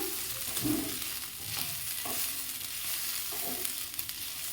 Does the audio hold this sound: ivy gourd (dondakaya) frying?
yes